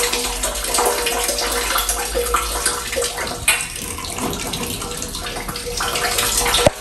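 Water squirts and rushes into a tank through a dip tube, a steady loud hiss and gurgle of filling close by, with a sharp knock near the end and no talk.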